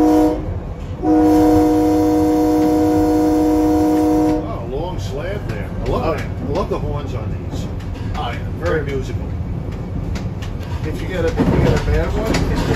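A SEPTA train horn blasts steadily for a few seconds, then the rumble and clatter of the train over a smooth concrete railroad crossing continues beneath talking.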